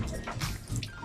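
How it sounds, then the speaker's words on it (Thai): Water pours at a small waterfall in the Four Regions Floating Market in Pattaya. There is a short, soft, continuous splashing and trickling with no talk. "น้ำไหล"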